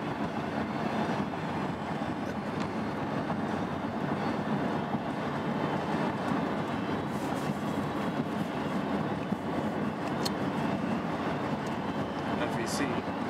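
A covered grain freight train rumbles past with a steady, continuous roar and faint rail clatter, while people talk over it.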